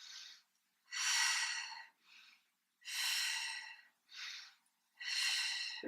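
Slow, deep breaths during a Pilates exercise, alternating shorter inhales with longer, louder exhales in an even rhythm, close and alone with no talking.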